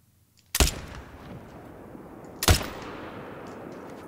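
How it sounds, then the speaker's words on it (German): Two loud hunting rifle shots in the video game theHunter: Call of the Wild, about two seconds apart, each a sharp crack followed by a rumbling echo that slowly fades. "Und ich schieße direkt zweimal hinterher."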